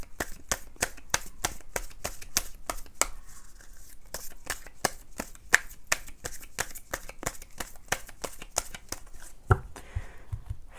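Tarot cards are shuffled and drawn in a fast run of crisp, close clicking riffles that go on almost without a break, with no speech.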